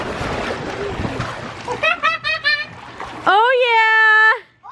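A person is thrown from a boat into the water with a short splash, amid excited voices of children and adults.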